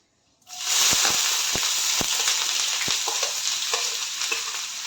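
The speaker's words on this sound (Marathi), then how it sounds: "मध्यम आकाराचे 2 कांदे बारीक चिरून घेतलेले। आणि कांदा आपला चांगला फ्राय होऊ देऊया।" Finely chopped onions, two medium ones, dropped into hot oil, bursting into a loud sudden sizzle that stays strong and steady, with a few sharp crackles and taps of stirring.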